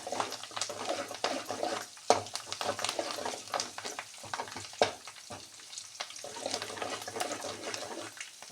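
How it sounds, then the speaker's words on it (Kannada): Mustard seeds and spices tempered in hot oil for a ripe mango palya, crackling and sizzling in dense bursts of sharp pops over a steady frying hiss, close and fairly loud throughout. "ಒಗ್ಗರಣೆ ಚಟ ಚಟ ಅಂತ"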